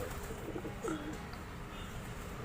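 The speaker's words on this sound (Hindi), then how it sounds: "बाकी कबूतर अभी खुले हुए हैं" Pigeons coo softly on a rooftop, a few low throaty calls in the first second over a quiet outdoor hiss, somewhat distant.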